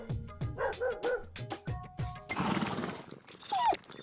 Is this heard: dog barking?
yes